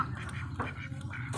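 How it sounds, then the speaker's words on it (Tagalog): Peking ducks and other farm ducks quack faintly in a small cluster of nasal calls at a farmyard, heard from a short distance. "yung mga itik, manok, Peking duck"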